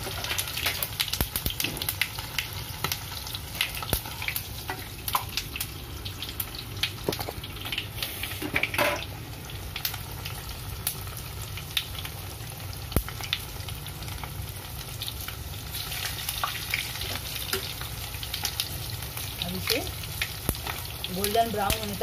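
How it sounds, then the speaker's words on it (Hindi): Sesame-coated chicken keema patties fry in hot oil, a steady dense sizzle with constant sharp crackles and pops from the seeds, continuous and close throughout. "इसमें तिल रहता है, तिल चटकता है इसलिए आवाज आती है।"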